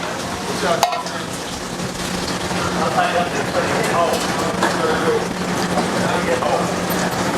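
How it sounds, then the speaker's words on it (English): A steady, crackling sizzle of fresh oysters frying in hot oil fills the clip, close and constant, with voices murmuring in the background. "You mind frying those for me, Brittany?"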